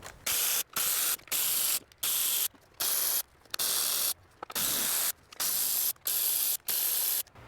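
A hand ratchet clicks in repeated bursts, backing out 10 mm bolts on a Ford Flex 3.5 EcoBoost during a water pump replacement, with about ten rhythmic spurts of fast pawl chatter separated by short pauses, close and alone.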